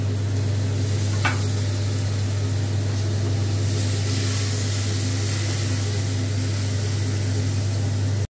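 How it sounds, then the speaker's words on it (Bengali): Spice masala sizzles steadily in a pan as it is stir-fried for a slow-cooked meat dish, a dense, even hiss with a low hum underneath and one brief scrape near the start, with no talking. "মশলাটাকে ভালো করে কষিয়ে নিচ্ছি।"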